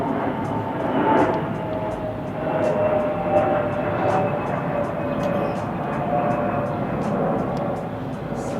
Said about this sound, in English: here comes another flight